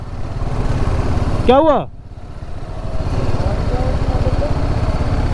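A TVS Apache RTR 310 motorcycle engine runs with a steady, low throbbing rumble close by, while a person speaks briefly over it.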